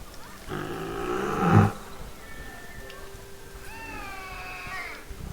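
A Bengal tiger cub in the zoo game Planet Zoo lets out a loud, strained yowling cry, followed by fainter, higher mewling calls over a steady background hum.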